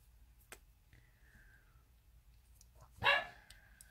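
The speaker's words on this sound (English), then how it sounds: "My dog's talking to y'all again." A dog lets out a single sharp, close bark near the end, following a faint whine earlier, in a quiet indoor room where someone is crocheting a cotton hot pad.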